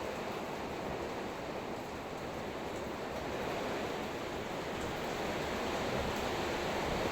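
Heavy typhoon rain pours down in a steady, dense roar with no breaks, wind mixed in, loud and close throughout with no voices.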